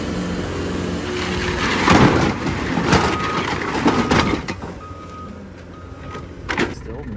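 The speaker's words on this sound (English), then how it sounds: "I dumped a whole ass pallet of bricks." A pallet of cinder blocks crashes down into the bed of a Toyota Hilux pickup, giving a loud crushing, clattering impact with scattered blocks cracking and knocking, and a machine's hum with intermittent beeps running underneath.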